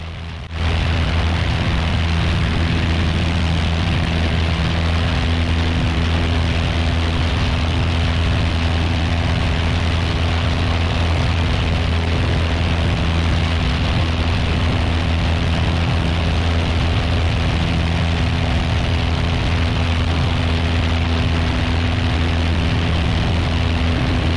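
A light single-engine propeller airplane at full power during a short field takeoff from Runway 8 at Danbury, Connecticut, a loud steady engine drone with propeller buzz that holds unbroken throughout, with no voices.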